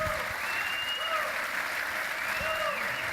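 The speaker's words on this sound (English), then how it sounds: "How about a round of applause for our panel here?" Sustained audience applause for a panel at a regional planning launch event, a dense steady wash of clapping throughout, with faint tonal voices or whistles weaving above it.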